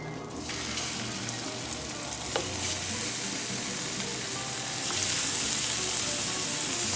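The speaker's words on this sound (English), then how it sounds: "In the same pan, we're gonna add the salami." Salami sizzles steadily in a hot pan, a loud continuous frying hiss that swells slightly near the end, with no talking.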